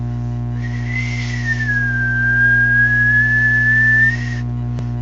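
A person whistles into the microphone of a Midland 78-999 Big Base Classic CB radio, one long sustained tone that rises, dips and levels off for about four seconds, loud over a steady electrical hum, ending with a short click.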